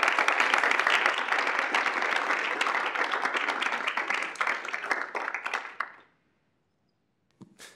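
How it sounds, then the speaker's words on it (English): A room of student senators gives a round of applause for the elections committee, dense clapping that thins toward the end and stops abruptly, followed by a brief quiet gap. "So if we could give them a round of applause."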